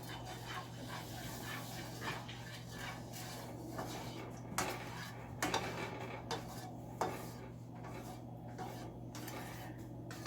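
Fragrance oil being stirred into hot melted candle wax in a pot, a steady scraping and clinking of the utensil against the container that keeps going the whole time, close and fairly quiet, with no talking.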